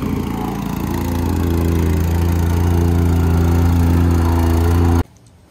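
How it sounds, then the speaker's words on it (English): A plate compactor runs steadily at close range, packing the base for a brick paver driveway expansion, its even engine drone holding for about five seconds before cutting off abruptly. "now he's compressing it with the machine"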